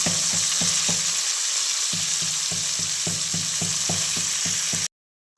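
Green beans tossed into a hot tempering of cumin, mustard seeds and garlic, a steady loud sizzle broken by rhythmic stirring scrapes and clinks, ending abruptly in silence.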